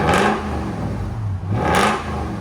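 Exhaust of a 1996 Lexus LS 400 4.0L V8 with true duals and Valvetronic muffler, revving in two loud swells separated by a lower steady rumble, close and without speech.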